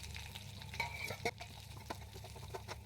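Drumstick leaves are stirred and wilted in a pan for a jackfruit seed and lentil curry, giving a faint, soft sizzle with light scraping sounds.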